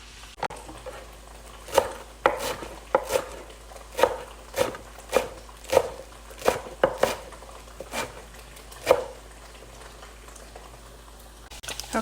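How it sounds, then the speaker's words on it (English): A knife finely chopping cilantro on a cutting board, sounding as a dozen or so close, sharp, evenly spaced knocks in a steady rhythm before trailing off, with no talking. "I'm gonna go ahead and chop the cilantro"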